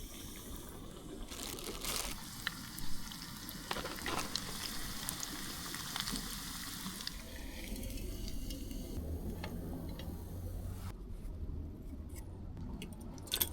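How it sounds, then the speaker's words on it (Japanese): Food deep-frying in oil at an island fishing camp, a steady low sizzle and bubbling running throughout at moderate distance, with no voices over it. "よし、これを揚げていく。"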